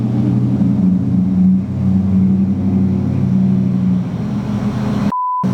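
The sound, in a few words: car passing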